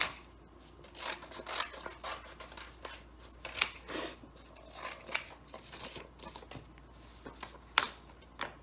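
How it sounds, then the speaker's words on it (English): Scissors snip through paper cards in a quick series of sharp, close cuts with brief rustling between them, alone and fairly quiet. "you do need to cut them apart"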